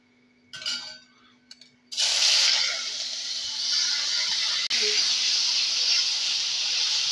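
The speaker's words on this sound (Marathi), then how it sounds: "आता बारीक केलेला आवळा कढईत टाकून घेत आहे" Chopped amla drops into hot ghee with whole spices in a kadhai, setting off a loud, sudden sizzle that stays strong and steady for about five seconds after a few soft clinks; no speech.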